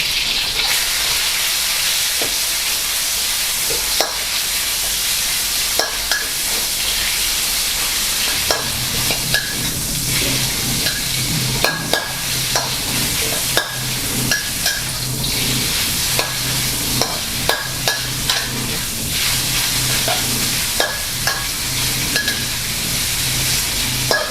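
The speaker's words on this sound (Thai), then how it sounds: "ผัดสักครู่นะครับ ผมชอบให้เนื้อหมูเกรียมนิดนึง" Marinated pork stir-fries in a pan with a continuous loud sizzle, broken by frequent sharp clicks and scrapes from a spatula tossing the meat, close up and without speech.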